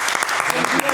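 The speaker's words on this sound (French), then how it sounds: "Applaudissements, s'il vous plaît." Short burst of audience clapping, loud and close, with rapid irregular claps packed into under a second.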